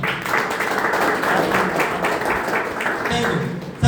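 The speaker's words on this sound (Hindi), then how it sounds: "तालियां होनी चाहिए।" An audience at a health awareness program in Sagar, Madhya Pradesh, applauds steadily for a few seconds, a dense wash of clapping from a crowd, fairly loud and continuous.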